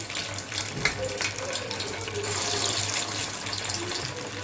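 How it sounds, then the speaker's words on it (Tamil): Fish balls coated in cornflour frying in hot oil, a steady dense sizzle and hiss that holds throughout with no talk over it. "இந்த பாலை நல்லா கார்ன்ஃப்ளவரில் இப்படி போட்டு எடுத்து எண்ணெயில் சேர்த்துக்கலாம்."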